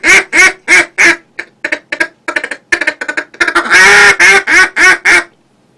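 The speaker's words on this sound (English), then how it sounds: "People will tell you that Coco Bolo is the best wood for duck calls." Cocobolo wood duck call blown close and loud in a rhythmic run of quacks, first single notes, then quick chattering bursts, ending in a drawn-out, raspier series of calls.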